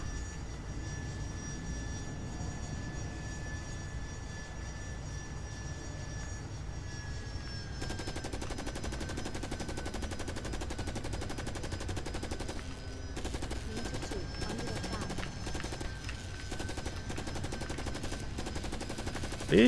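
Steady automatic gunfire in Carrier Command: Gaea Mission on Xbox 360, rattling against a heavily armoured Manta aircraft over a continuous engine drone, with dense bursts growing louder in the second half.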